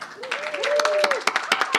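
An audience at a 2022 graduation and awards ceremony gives a brief patter of clapping, with sharp claps coming through near the end while a voice speaks over it.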